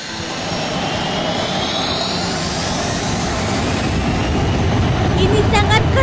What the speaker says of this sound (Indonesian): Jangan menekan tombol merah atau kereta jet akan meluncur.